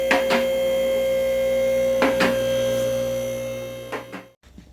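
A garage vehicle lift raises a 1984 Ford LTD, its electric motor giving a steady, loud droning hum with a few clunks along the way before cutting off abruptly near the end.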